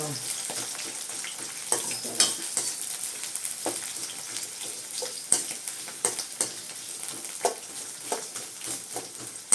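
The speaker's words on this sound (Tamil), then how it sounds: "நல்லா வதக்கி விட்டுட்டு வெங்காயம் வந்து ப்ரௌனாக வரணும்." Onions sautéing in a pan for vegetable biryani, a low steady sizzle broken by irregular spatula scrapes and taps against the pan, close and fairly quiet with no talk.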